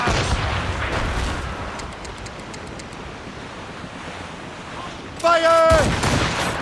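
Ship cannon fire at sea in Assassin's Creed Rogue, heard as a loud burst near the end over steady wind and crashing waves, with a faint whistling tone leading in.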